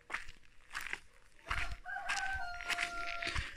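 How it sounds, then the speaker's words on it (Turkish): A rooster crows in a village, a long drawn-out call rising out of rustling background noise, fairly close and loud, with a few scattered shorter clucks around it. "Bu arada horoz tüymüş galiba ama henüz göremedim nerede olduğunu."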